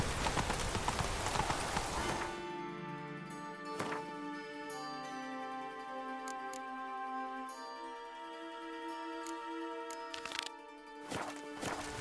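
A horse's hooves gallop in the video game The Witcher 3 with a quick, rhythmic clip-clop over sustained musical tones, preceded by a brief burst of noisy ambience.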